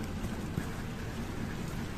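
Steady rain falling outdoors during garden work laying grass and pebbles, a dense continuous patter with no voices.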